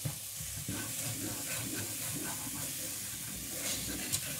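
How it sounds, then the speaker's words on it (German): Brown sugar caramelizes in a hot pot for chili con carne, giving a steady soft sizzle and hiss with the scrape and clatter of a spoon stirring throughout. "Und rühren das schön um."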